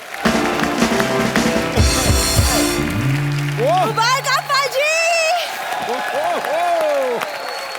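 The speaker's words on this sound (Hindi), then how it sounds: "जोरदार तालियां" Audience applause on a comedy show stage, mixed with music, a sweeping sound effect and background voices; clapping carries through much of the clip rather than standing alone.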